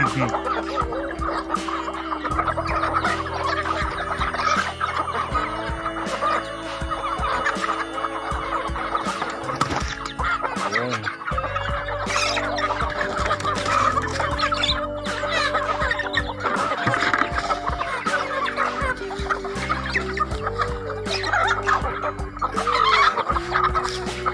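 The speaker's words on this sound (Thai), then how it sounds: "เอาแต่เสียงไก่เสียงกาเลยครับ" Chickens cluck steadily and continuously, a busy flock heard close up with overlapping calls throughout.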